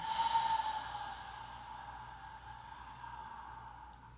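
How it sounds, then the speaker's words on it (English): Slow inhale during a guided breathing exercise, a soft airy breath sound that swells at the start then tapers into a faint steady hiss, close and alone. "Go ahead and begin your inhale for the first breath"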